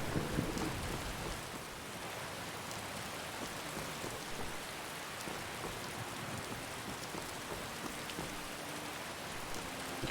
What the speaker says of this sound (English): I'd like to get in out of the rain.